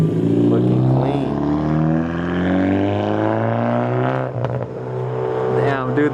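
Boost-chipped Kia car engine revving up and down nearby, with rising and falling engine tones and sharp exhaust pops around the middle, while people talk over it.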